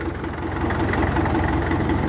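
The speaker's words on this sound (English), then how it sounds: "Here we are with the little BTD6. Quite a nice little tractor." International Harvester BTD6 crawler tractor engine idling nearby with a steady, low, even rumble and faint rhythmic knock throughout, with no voices.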